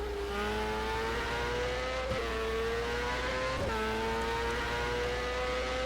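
A simulated 1995 Indycar engine in the rFactor racing game screams steadily at high revs, with two sharp dips around the middle as it drops gears through a street circuit in Toronto, loud and continuous with no talk.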